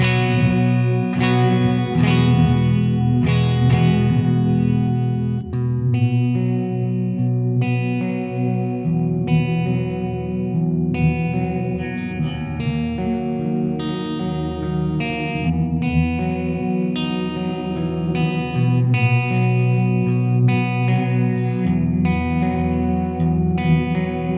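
Electric guitar playing sustained chords through a Keeley Parallax Spatial Generator reverb pedal, notes ringing out and blending into a washy, lingering tail with no talking.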